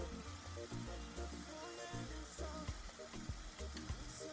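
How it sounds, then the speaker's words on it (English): Peppers frying in a pot while cooking Gbegiri and Ewedu soup with stock cubes and salt, giving a steady close sizzle with irregular stirring knocks and scrapes throughout, no talking. "because of the size of the pepper I'm frying"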